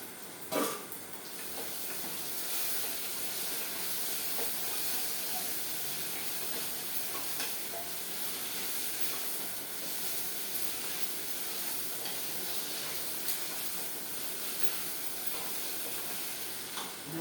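Chopped tomatoes and onions sauté in a hot pan for a nishadam dinner dish, a steady close sizzle and hiss that runs continuously, with a few soft clinks near the start.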